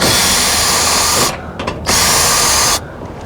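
Power drill backing out screws from the panel of an Ariston (Splendide) dryer, two close, loud high whirring runs broken by a short pause with faint clicks.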